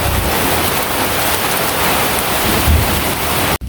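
A sudden heavy downpour with hail pounds down in a village, a loud, dense, unbroken roar of rain close by that holds steady throughout before cutting off abruptly at the end, with no voices.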